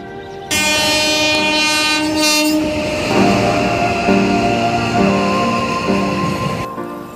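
A train at Asansol railway junction sounds a long, loud horn blast, then rolls on with a heavy rumble and rhythmic clatter of wheels. It is close, steady and without speech.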